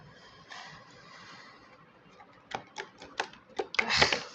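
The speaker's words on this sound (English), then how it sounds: "I think I need to shuffle it well." Tarot cards shuffled on a mat: a quiet rustle first, then a run of sharp snapping clicks that grows denser and louder toward the end.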